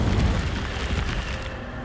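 Incendio fire spell cast in Hogwarts Legacy, a single loud burst of whooshing flame that rolls out into a dense, rumbling roar and then slowly eases off.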